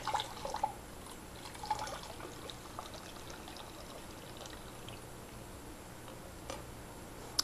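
Water pours into a container and fills it until it overflows, a soft, fairly faint running trickle with a few small drips and clinks scattered across the pour.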